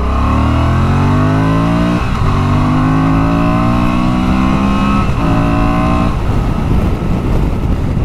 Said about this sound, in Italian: Motore tira, eh? Questi 92 cavalli tirano bene.